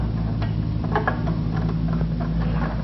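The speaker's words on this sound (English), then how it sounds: "Retighten the screws." A screw is retightened on the ground runner of a Line-ward L2 vibratory plow, making steady mechanical ratcheting and clicking close by over a constant low hum.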